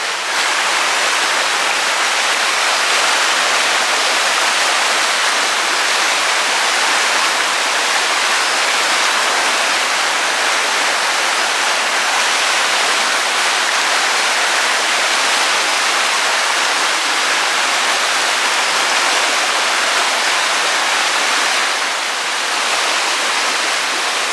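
A river at Elkmont in the Great Smoky Mountains rushes steadily and loudly, a constant broad roar of flowing water with no pauses or voices.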